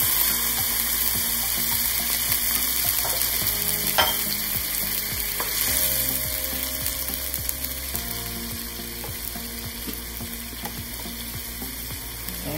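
Meat strips for a Thai-style dish simmering in a pan after water is added, with a strong bubbling sizzle throughout and regular stirring clicks and scrapes, close and without speech.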